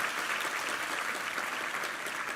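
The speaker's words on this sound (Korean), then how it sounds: "힘찬 격려의 박수 부탁합니다" A church congregation gives the choir steady, even applause during a Sunday service, heard from a little distance.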